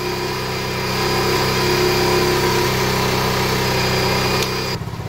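A motorcycle engine runs steadily as a power generator driving an inverter, a loud, close, continuous mechanical hum and whine that cuts off abruptly near the end.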